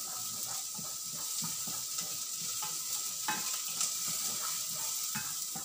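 Onion and garlic fry in a pan for adobo, giving a soft, continuous sizzle with light stirring scrapes and small crackles, fairly quiet throughout.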